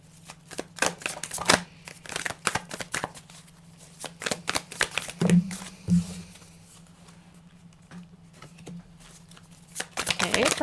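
Tarot cards being shuffled and drawn during a live reading: soft, irregular riffling and slapping bursts close to the microphone over a low steady hum, with a few quieter pauses between.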